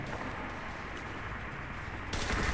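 MG13 heavy machine gun in the game Enlisted firing a steady, dense stream of rapid shots up close, with a louder burst near the end.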